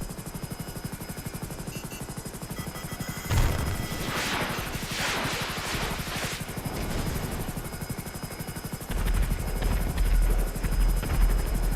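Rotor blades of a Hunter attack helicopter in GTA Online thump in a fast, steady chop throughout, with a crashing burst midway and a heavier rumble near the end.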